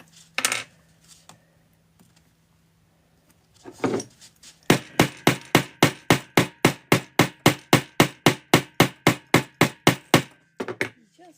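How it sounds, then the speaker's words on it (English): A hammer strikes leather for a handmade bag in a fast, steady run of about twenty sharp, close knocks, preceded by a few scattered taps and handling noises, with no talk. "Let me hammer from this side."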